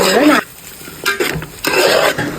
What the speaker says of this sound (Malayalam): അങ്ങനെ റൈസൊക്കെ ചേർത്തിട്ട് നന്നായിട്ട് മിക്സ് ചെയ്തൊക്കെ എടുത്തിട്ടുണ്ട്.